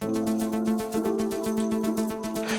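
Bright plucks from the Hive synthesizer tick in a fast, even rhythm over held tones and a low pulse, a dense electronic deep house loop playing on its own.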